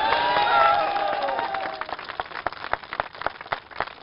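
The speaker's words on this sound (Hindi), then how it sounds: "और ये करतल ध्वनि" Audience applause breaking out at a televised news event in India, a dense patter of clapping that continues steadily under a presenter's tonal voice, with the claps growing more distinct toward the end.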